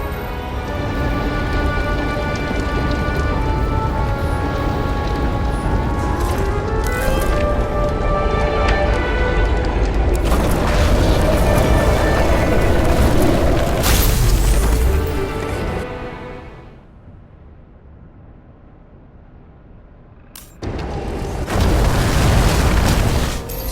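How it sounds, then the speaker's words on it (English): Transformer fire explosion in the video game Nobody Wants to Die: loud sustained roaring booms and crackling for about fifteen seconds, a drop to a quiet rumble, then another loud burst near the end, with no speech. "Someone flooded the transformer and it caught fire."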